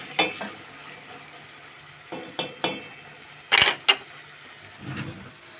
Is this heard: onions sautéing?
yes